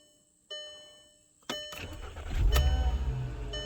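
A 2012 Volkswagen Passat with a throttle body fault: a chime and click, then the starter cranks briefly and the engine catches and settles into a close, steady idle.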